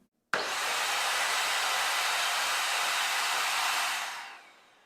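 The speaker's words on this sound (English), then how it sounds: "Let's hear the sound of this vacuum." An Agaro Regal Plus upright vacuum cleaner switches on abruptly and runs with a loud, steady high-pitched whine and airflow rush, then winds down near the end, with no voices.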